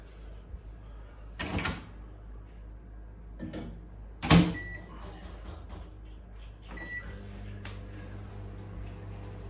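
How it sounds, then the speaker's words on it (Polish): A microwave oven being loaded with food and switched on in a home kitchen: a door clunk, a sharp latch click, then a steady low hum that runs quietly to the end. "Dobra, włączymy na 4 minuty i zobaczymy co z tego będzie."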